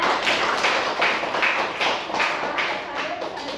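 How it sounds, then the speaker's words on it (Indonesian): Applause in a classroom during a microteaching lesson, a steady patter of many hands clapping at moderate loudness with a voice briefly heard. "tepuk tangan dulu dong buat Mbak Sandra."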